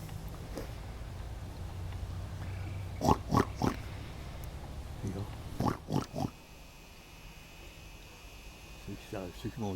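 Pigs on a small farm grunt in a few short bursts, fairly close, with a quieter run of grunts near the end over low background noise.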